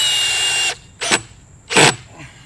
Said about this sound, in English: I'm gonna toenail a deck screw in there to hold it at the height where I need it.